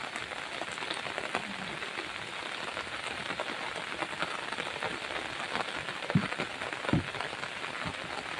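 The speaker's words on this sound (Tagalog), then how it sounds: "Pasensya na, umuulan." Steady rain patters densely on surfaces nearby in the Singapore Botanic Gardens, a continuous hiss with scattered heavier drops and a few louder knocks.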